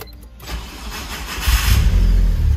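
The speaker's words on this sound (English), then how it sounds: "So it starts up. I know the starter is going bad." A Mitsubishi Evo 4 cranks over with a failing starter, and its engine catches and rises into a loud, steady run close by, with no talk.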